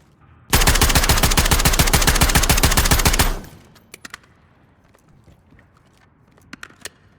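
Rapid automatic fire from a JAK Jawbreaker rifle in a video game, a loud continuous burst of roughly three seconds with evenly spaced shots, followed by scattered faint clicks and small mechanical sounds.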